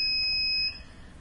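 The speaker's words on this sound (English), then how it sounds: "We can beep it" A CenTrak Elpas device gives a single high, steady electronic beep that lasts about half a second and then stops cleanly, leaving only a quiet background.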